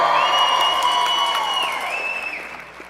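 Audience applause and cheering at a Dancing With The Stars charity dance show, a loud burst of clapping and crowd noise that gradually fades over a few seconds.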